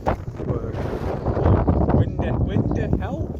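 Wind gusting across a wild campsite, a broad, steady roar buffeting the microphone for a few seconds while people talk over it.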